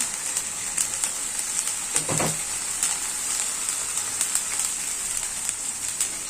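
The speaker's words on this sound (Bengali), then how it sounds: "এখানে আমি দিয়ে দিয়েছি তেল, পেঁয়াজ বাটা, দিয়ে দিচ্ছি হলুদ, মরিচ, লবণ, আদা রসুন।" Onion paste fries in oil with turmeric, chili, salt, ginger and garlic, a steady crackling sizzle with scattered sharp pops and a brief louder burst of stirring partway through, close and with no talk.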